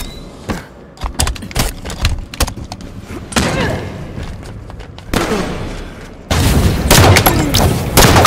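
Shotgun fire in a fast online video game match, ending in a double kill: a quick run of sharp, loud blasts and thuds, with denser bursts of gunfire toward the end.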